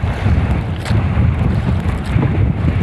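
Strong wind buffets the microphone continuously on a small fishing boat at sea, with roaring, gusty noise, while water and engine rumble churn underneath; no voices.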